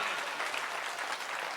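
Steady, dense applause from a large audience at a Hindi poetry gathering (kavi sammelan), continuous and even throughout with no voices standing out.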